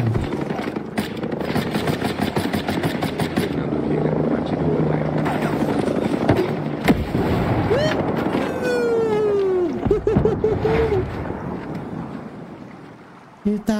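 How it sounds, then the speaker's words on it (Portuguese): A helicopter in a sniper video game approaches with a steady rotor chop and engine roar, loud and continuous, alongside game effects, a brief rising whine and a voice talking over it. "Parece até que adivinhei, velho, que tinha um helicóptero vindo."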